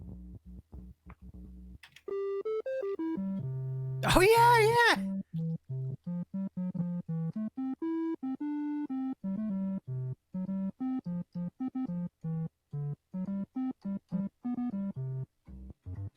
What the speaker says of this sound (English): the triangle wave sounds more like this.